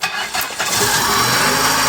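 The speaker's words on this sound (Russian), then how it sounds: "Все, сразу заводится, сразу работает." Chrysler Voyager engine cranks briefly and catches, settling straight into a loud, steady idle close by, with no talk over it.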